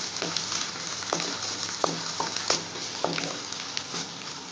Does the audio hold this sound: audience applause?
no